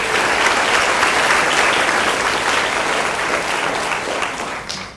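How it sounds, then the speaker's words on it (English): A large audience at a board of education meeting applauds steadily, a dense sustained clatter of clapping that holds loud and then slowly tapers near the end. "give them another round of applause"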